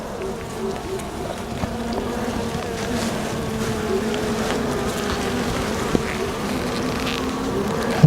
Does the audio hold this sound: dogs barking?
no